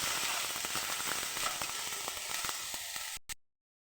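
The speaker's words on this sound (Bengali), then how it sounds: "কড়াইয়ের মধ্যে অল্প একটু তেল দিয়ে আমি টমেটোগুলো দিয়ে দিয়েছি।" Tomatoes frying in a little oil in a wok give a close, steady sizzle with fine crackles and pops, which stops abruptly near the end.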